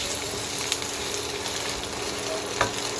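Food frying in a pan for a home meal, a steady close sizzle with faint crackles and a couple of brief utensil clicks, no voices.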